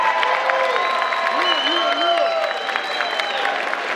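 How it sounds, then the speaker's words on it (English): Crowd applause and cheering for J Majors at a Connecticut barber battle, steady clapping at moderate distance with whistles and scattered whoops over it, plus a bit of background voice noise. "can everybody get a round of applause for J Majors?"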